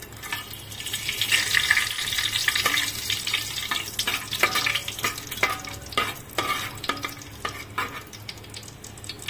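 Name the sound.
cinnamon, cloves and bay leaves sizzling in hot ghee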